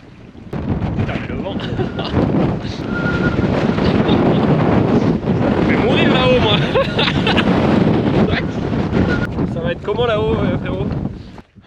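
Strong wind gusting across open, orange-tinged moorland in the northern Scottish Highlands, roaring steadily and buffeting the microphone for the whole stretch, with faint voices and movement beneath it.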